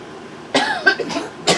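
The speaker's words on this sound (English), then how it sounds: "gingery enough that it makes me cough" A few harsh coughs brought on by a strong ginger drink burst out close by, a pair in quick succession followed by a short pause and another cough.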